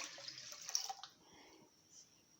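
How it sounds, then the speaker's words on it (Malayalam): Water poured into milk in a pot while making palpayasam, a brief splashing pour that trails off into a faint trickle, close and fairly quiet with no talking. "ഞാനിവിടെ ഒരു 1/2 ലിറ്റർ വെള്ളം കൂടെ ഒഴിച്ചു കൊടുക്കുന്നുണ്ട്"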